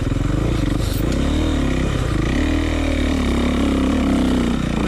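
A two-stroke motocross dirt bike engine drones loudly and continuously up close while riding and sliding, its pitch wavering with throttle changes.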